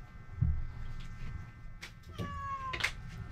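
A cat meows several times, one low early call followed by higher, drawn-out meows later, close and fairly quiet over a faint background.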